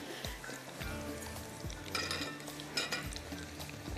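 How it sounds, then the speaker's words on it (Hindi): Fish fries in hot oil for a fish-and-chips dish, a soft, steady crackling sizzle with a few sharp clinks of a utensil against the pan, fairly quiet and without speech. "बस फिश को हम फ्राई करते हैं"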